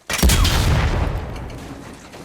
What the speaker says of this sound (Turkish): Araba niye patladı?